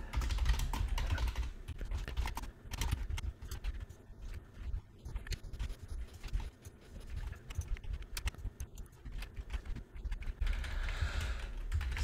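Computer keyboard typing while Java Swing code is edited, steady close-up clatter of keystrokes with brief pauses, continuous over the whole stretch with no talk.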